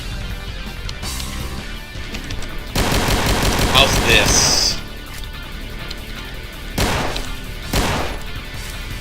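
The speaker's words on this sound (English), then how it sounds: "That is a pretty hefty pistol." Heavy pistol fire in Doom running the Final Doomer mod, loud close shots in quick bursts and separate single blasts spread across the stretch, with a voice speaking briefly between them.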